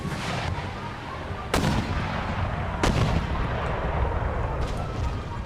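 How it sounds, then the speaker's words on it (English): Cannon fire in Empire: Total War, a continuous rumbling battle bed broken by two sharp, loud blasts and a fainter distant boom near the end. "We'll have our main cannon continue to focus on those mortars."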